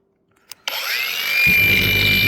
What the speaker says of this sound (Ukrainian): тепер шліфуємо другим кроком